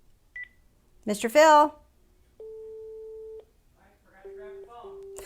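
An office intercom telephone gives a short high beep, then a long steady tone and two shorter repeated busy-signal tones, with a person briefly calling out a name in between.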